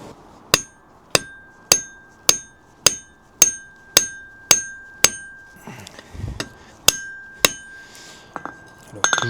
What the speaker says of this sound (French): soit venir taper comme ça sur l'enclume pour que ici ça vienne se compresser